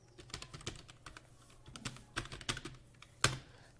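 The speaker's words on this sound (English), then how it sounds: "let me first type HTML syntax" Typing on a computer keyboard while writing HTML in a text editor: irregular bursts of close keystrokes with short pauses and one sharper clack near the end, no talking.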